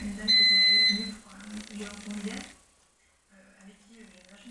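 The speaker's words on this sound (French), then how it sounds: "c'est ma machine à laver qui est terminée" A washing machine signals the end of its wash cycle with a single clear, sustained electronic beep near the start, followed by talking in a quiet indoor room.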